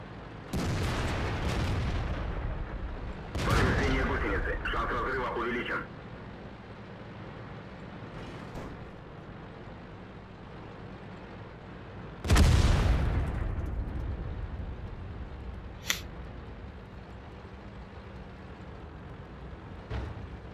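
Tank cannon blasts from the World of Tanks game, with a Tiger II in play: several deep booming shots with rumbling decay, one close and loud midway, others more distant.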